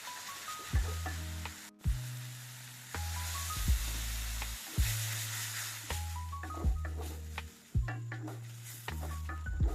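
A spatula stirs ground turmeric, chili and coriander powder with salt in a pan for egg masala, giving repeated scraping strokes about once a second with a soft sizzle, quiet and close, with no talking.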